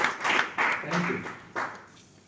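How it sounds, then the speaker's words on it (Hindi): A handful of people clap briefly in a workshop hall, a few short sparse bursts of applause close by that quickly fade. "पता है अभी सिर्फ 2-4 लोगों ने तालियां क्यों बजाई?"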